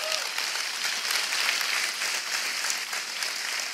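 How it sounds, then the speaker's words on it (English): A crowd at Apple WWDC 2017 applauds with steady, dense clapping that holds at an even level for several seconds. "Let's give them a big round of applause."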